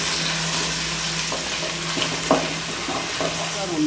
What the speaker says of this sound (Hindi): अब हम इसमें जो है वो लहसुन अदरक का पेस्ट ऐड कर देंगे